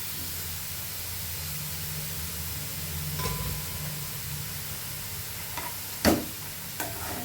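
Milk poured into grated carrots cooking in a pan for carrot halwa gives a steady close sizzle and stir, with a couple of sharper clatters near the end and no talking.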